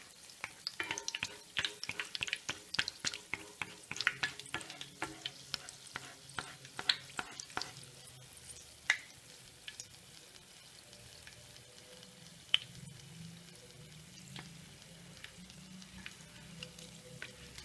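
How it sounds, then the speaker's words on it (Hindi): Gulab jamun fry in ghee on low heat while a slotted spoon stirs the fat, producing a soft, continuous sizzle with many scraping clicks, busier at first and then sparser. "इस तरह से घी को हिलाते हुए गुलाब जामुन को सुनहरा होने तक तलना है।"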